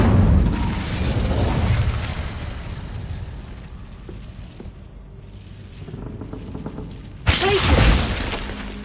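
The Incendio fire spell cast in Hogwarts Legacy: a loud, crackling, shattering burst that roars up at the start and slowly fades, then a second sudden blast near the end, with no talking.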